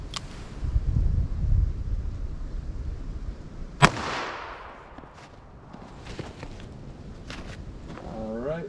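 A single .38 Special shot from a revolver with a 4-inch barrel, firing a button-nose wadcutter, cracks out sharply and loudly with a ringing tail over quiet outdoor rustle. A faint voice comes in near the end.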